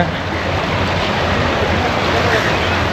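Arabian Sea waves washing onto the seashore at Mumbai, a loud continuous surf roar mixed with wind buffeting the microphone, no distinct breaks between waves.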